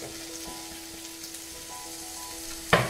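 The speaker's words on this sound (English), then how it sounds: "I stir fry the ginger, garlic and onion for 2 minutes." Ginger, garlic and onion stir-frying in a pan, a low, steady sizzle with faint stirring scrapes and a brief louder clatter near the end.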